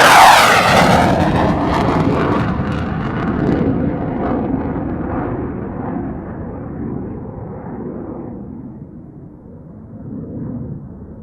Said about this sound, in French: Et voici en guise d'au revoir le passage du Rafale Marine.